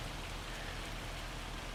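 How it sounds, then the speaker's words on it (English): Steady, dense rain pours down in a video game, a continuous even hiss of drops on surfaces with no pauses or thunder. "It's going to rain, man."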